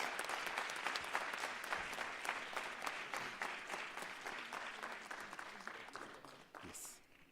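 An audience at a school leadership summit applauds during an award presentation, with steady, dense clapping that continues throughout and tapers near the end.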